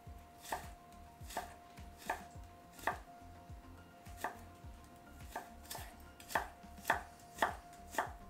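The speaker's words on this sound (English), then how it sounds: "arrange a few slices into a stack and slice into thin matchsticks" A knife on a cutting board julienning a carrot into thin matchsticks for a Vietnamese mango salad, with about a dozen crisp, close chops in an uneven rhythm under a quiet background, no talk.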